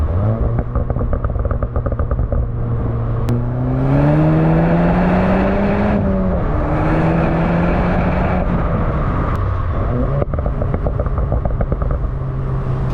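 A car in sport mode with a stock downpipe and mufflers idles, then revs up smoothly and settles back, with a mild stock exhaust note and a steady rumble, fairly close.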